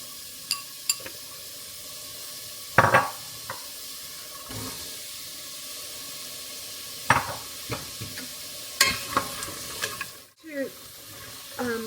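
Onion and carrot softening in oil in a soup pot, a quiet background sizzle punctuated by scattered clinks and scrapes of a utensil, with a brief louder clatter near the end.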